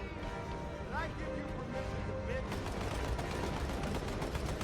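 A .50 cal machine gun fires at a tank in Halo 2 Anniversary, a dense rapid rattle of automatic bursts mixed with game noise and explosions that grows steadier and louder in the second half, with voices under it.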